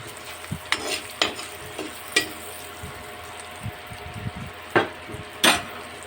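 Onions fry in hot oil in a pan for Tamil rasam, sizzling softly under repeated scraping stirs of a spoon, with several sharper knocks against the pan.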